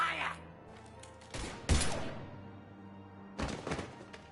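Gunfire and impacts in the video game Mass Effect Legendary Edition come as a few heavy bursts of thuds and shots, spread out over quieter game sounds.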